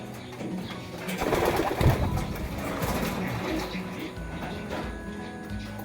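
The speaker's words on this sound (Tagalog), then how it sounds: "Pansinan nyo naman yan sa tawag dito, sa ranging ng ibon" Racing pigeons at a Calapan fanciers' loft coo repeatedly over steady background noise, with occasional muffled sounds nearby.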